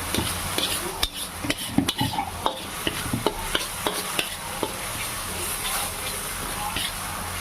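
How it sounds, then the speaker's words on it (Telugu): A spoon stirs chili powder into a chicken curry in a sizzling pan, with steady frying hiss under a run of close scraping and knocking stirs, and a voice speaks now and then. "దీంట్లో కూడా మనం కొంచెం లైట్గా కారం వేసుకుందాం ఒక స్పూను ఇది కలిపేసుకుందాం"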